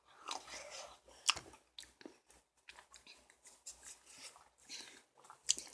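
Someone eats a homemade slushie up close, with wet, icy crunching and chewing bites coming in irregular bursts between quiet pauses.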